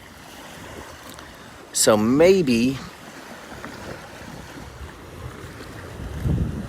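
Ocean surf and wind at Pawleys Island beach make a steady broadband wash with gusty microphone buffeting throughout, and a voice speaks briefly near the start.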